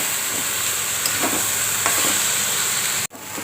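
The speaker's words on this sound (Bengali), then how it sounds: "এই যে ভাজা ভাজা হচ্ছে" Soaked gobindobhog rice with cashews and raisins being stirred and fried in a pan, a continuous close sizzle with a few spoon scrapes and a sharp clack near the end.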